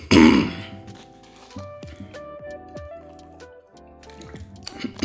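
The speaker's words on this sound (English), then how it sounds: "I know it annoys some people when I clear my throat" A man clears his throat roughly at the start and again at the end, short harsh rasps separated by a quiet stretch of dripping, squishy game effects in a Pokémon card game match.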